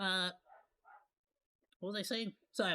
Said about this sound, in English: my neighbor's dog probably came back over, so my dog went ham.